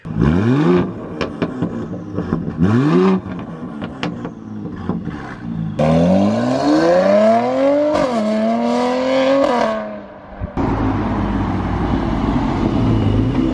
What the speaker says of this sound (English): Now the exhaust sounds insane too.